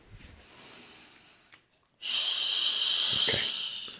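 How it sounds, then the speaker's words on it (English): A person breathes in quietly, then exhales through pursed lips with a sustained, hissing shh that is loud and close, lasting about two seconds. "breath in, and then just shh"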